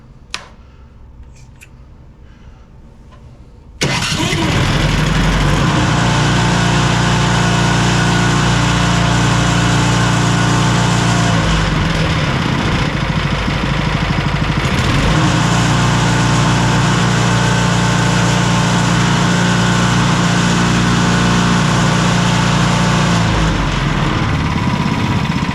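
A small gasoline engine, its tank filled to the top, is quiet for a few seconds and then starts abruptly. It settles into a loud, steady, buzzing run close by and keeps running with slight dips in pitch.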